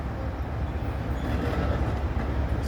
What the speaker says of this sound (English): this is an old-fashioned steam train